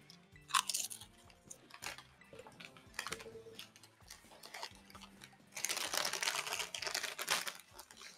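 Chip bag crinkling close up while chips are crunched and chewed, giving sharp intermittent crackles, then a denser stretch of rustling and crunching toward the end, fairly quiet overall with no talk.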